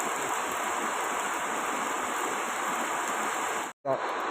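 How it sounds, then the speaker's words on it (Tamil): Heavy rain pouring steadily onto water, a dense hiss of drops and splashing close by, loud and continuous, briefly cut off near the end before resuming. "பபுள்ஸ் ஆரம்பிச்சு அப்போ மழை கனமாக வரும்"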